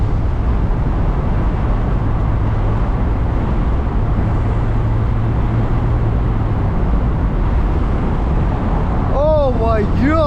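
A sports car engine drones under steady road and wind noise inside the cabin on a test drive, loud and continuous, with brief faint voices near the end.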